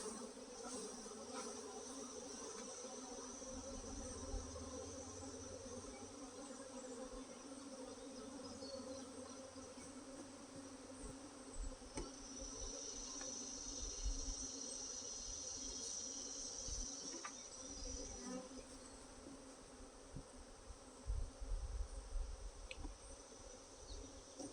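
Angry honey bees swarm around an opened hive, making a dense, continuous buzzing drone close by that swells and fades slightly as individual bees pass near, with low rumbling handling noises underneath.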